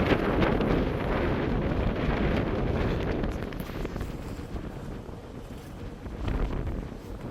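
Strong wind buffets a microphone on the open deck of a ferry crossing from Denmark to Germany, a steady close roar that eases slightly partway through, with a faint high tone above it.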